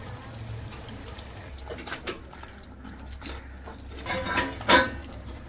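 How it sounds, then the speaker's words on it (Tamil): Water is poured into a pot of chicken biryani with basmati rice, making a soft splashing trickle. Light metallic pot clinks and drips follow, building to a brief sharper splash near the end. "ஒரு 200 ml தண்ணி அதை ஊற்றி விட்டுடுங்க."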